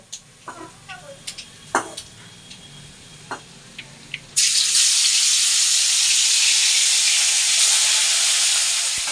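Pieces of fish drop into hot oil in a pan, and after a few scattered clicks and taps a loud, steady sizzle and hiss starts abruptly and continues without a break.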